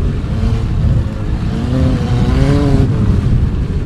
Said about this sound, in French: Grosse accélération en deuxième, suivi d'une 3e vitesse.